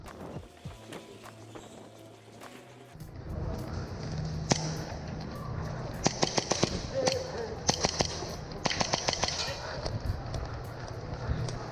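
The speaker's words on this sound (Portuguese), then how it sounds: "usam pequenas bolas de plástico com cerca de 6 mm de diâmetro, que são disparados com cerca de 1 joule de energia" Airsoft guns firing 6 mm plastic pellets at about one joule snap in quick irregular shots during an outdoor team game at Airsoft Miami, sharp cracks over rustling movement and low background noise.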